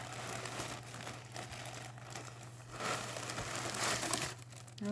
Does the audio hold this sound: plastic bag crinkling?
yes